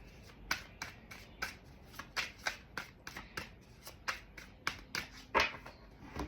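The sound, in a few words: shuffling a deck of tarot cards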